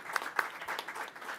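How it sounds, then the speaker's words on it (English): Brief applause from a school board meeting audience, a soft steady patter of many hands heard at a distance, with a couple of sharper claps near the start. "Would you join me in giving them a big round of applause for being so brave?"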